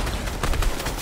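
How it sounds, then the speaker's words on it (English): Brief loud burst of Fortnite combat with RPG launches, dense overlapping shots and booms filling the moment, no voices. "They RPG'd from a distance, like. Launching."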